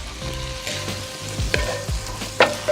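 Southwestern eggroll filling cooking in a pan, giving a steady close sizzle with a few stirring scrapes and light clinks of a utensil.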